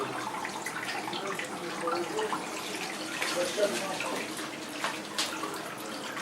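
Water rushes through a just-opened valve on a gas-synthesis installation, a steady hissing flow with occasional sharper spurts and knocks, heard close with faint voices in the background.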